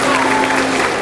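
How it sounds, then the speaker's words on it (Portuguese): Audience applauding the Garcia jiu-jitsu team after a martial arts demonstration, a brief burst of dense, steady clapping filling a hall with a faint sustained tone beneath it. "uma grande salva de palmas para eles."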